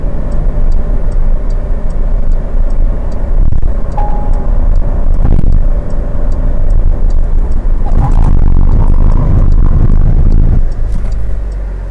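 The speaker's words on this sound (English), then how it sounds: "We'll do our braking test." A 2020 Porsche 911 Carrera 4S Convertible during a hard braking test: a loud, steady roar of engine, tyre and wind noise throughout, with faint ticking and no talking.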